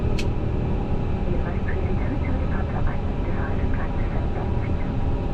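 An Edelweiss Airbus A350 on its takeoff roll out of Zurich at full TOGA thrust gives a steady, loud broadband jet roar that holds at an even level throughout, with faint voices in the background.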